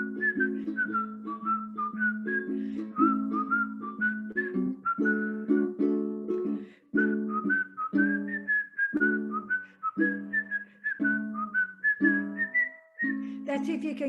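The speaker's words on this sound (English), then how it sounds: "Now you got a whistle." Someone whistles a bouncy melody alone, clear and close, with short phrases and brief pauses between notes.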